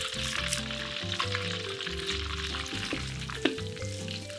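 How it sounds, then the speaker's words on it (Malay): Sizzling and crackling as crushed lemongrass sautes in hot butter in a pan, steady frying with occasional louder pops and a faint clink. "Tumis serai yang dititik,"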